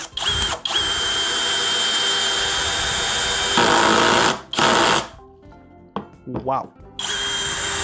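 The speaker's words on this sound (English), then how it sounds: "Now let me try to put this long screw with 18 on the torque setting" A DEKOTOOLS 20V brushless drill on torque setting 18 and speed 1 whirs steadily as it drives a long screw, with a brief surge before it stops, then short restarts and pauses; someone speaks a brief exclamation near the end.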